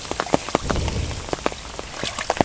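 Storm rain pouring down outdoors near a fishing spot, a dense continuous hiss with scattered sharp drop taps, close and steady with no talking.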